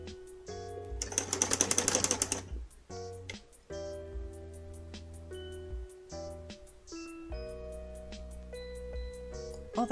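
A sewing machine runs in short stitching bursts, one fast rattling run standing out near the start, while tonal background music plays throughout at moderate level.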